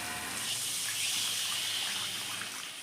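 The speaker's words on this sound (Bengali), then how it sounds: "এবার আমি পরিমাণ মতো জল দিয়ে দেবো" Water poured from a vessel into a pan of fried, well-cooked spices for a Bengali dal and fish-ball curry, a short continuous gushing splash at moderate level with no talking.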